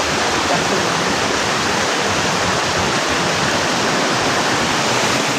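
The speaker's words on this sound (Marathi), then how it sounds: "पाण्याचं लय लिमिटच्या बाहेर आवाज आहे. ते प्रेशरनी पाणी आहे" A waterfall roars without pause, water rushing under heavy pressure in a loud, steady wash of noise that fills the whole stretch, with no talking.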